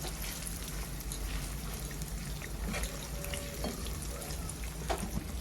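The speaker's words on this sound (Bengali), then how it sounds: "এখন হালকা নাড়িয়ে দিব।" French fries sizzle in hot oil while being lightly stirred, a constant hiss and crackle with occasional soft scraping clicks, fairly quiet and steady throughout.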